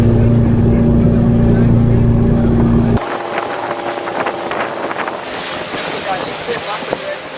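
A boat engine drones steadily for a few seconds, then gives way to rushing wind and splashing water as the vessel moves along off Cozumel, Mexico.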